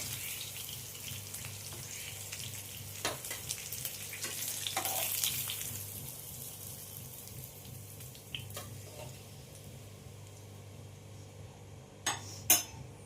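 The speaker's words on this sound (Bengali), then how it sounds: "দিয়ে আমি ভালো করে মাছটা ভেজে নেব।" Surmai fish fries in oil in a pan, a steady close sizzle with a low hum beneath and occasional sharp clinks of a utensil against the pan.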